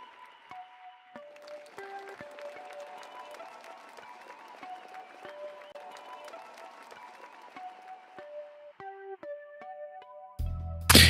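Crowd cheering and applause is layered under a song mix, a steady wash of crowd noise beneath tonal melody notes throughout, swelling into a loud burst right at the end.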